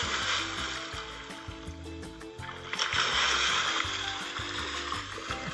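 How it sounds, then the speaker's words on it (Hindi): Water splashing and sloshing, used as a radio drama effect for a lion leaping into water in anger, with a steady rhythmic music bed running under the splashes throughout. "मारे गुस्से के उसने पानी में छलांग लगा दी"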